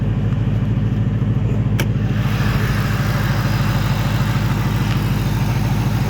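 A 775 hp Roush Mustang engine idles with a steady, deep, rumbling burble, loud and close and continuous throughout, with no talking.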